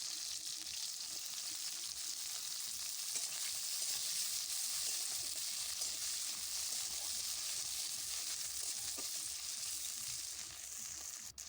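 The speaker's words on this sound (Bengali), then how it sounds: "গাজর, ফুলকপি আর বিন কড়াই সব সবজিগুলো দিয়ে একসাথে ভেজে নেব" Carrot, cauliflower and beans fry together in a wok with a continuous bright sizzle of hot oil, steady and close, with faint stirring scrapes and no voices.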